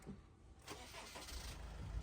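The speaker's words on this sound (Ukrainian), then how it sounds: "Заводиться він дуже гарно і легко, зараз я заведу." A 2014 Honda CR-V with a 2.2 diesel engine and about 150,000 km on it cranks and fires up close by, then settles into a steady, rising engine rumble with no speech.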